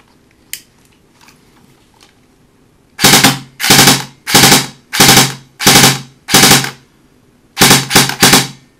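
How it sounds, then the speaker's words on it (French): Several rapid bursts of sharp mechanical clattering from a Specna Arms SA-B02 airsoft rifle on full auto, fired without BBs, each burst about half a second, loud and close. "Et donc vous allez entendre le bruit. Je vais tirer en auto."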